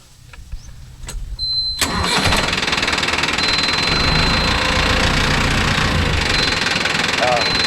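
A Mahindra Arjun Novo 605 tractor engine cranks after a few clicks and knocks, catches and settles into a loud, steady diesel idle with rhythmic chugging, recorded close by, while a voice speaks briefly in the background.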